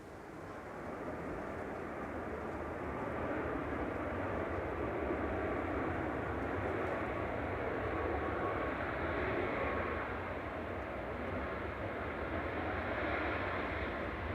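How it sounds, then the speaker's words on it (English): A Ryanair Boeing 737 MAX 200 from Berlin at Manchester Airport rises into a steady, moderately loud jet roar that holds, then eases slightly near the end, alone without talk. "Ryanair from Berlin there. 737 MAX A200 EIIJF, flight 1154."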